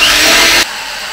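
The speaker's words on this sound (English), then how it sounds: "I've got the heads on the drill, and I'm just going to do the polishing." An old drill fitted with a polishing head whirs loudly while buffing car paint with scratch remover, a steady high-pitched motor drone that cuts off abruptly partway through the short burst.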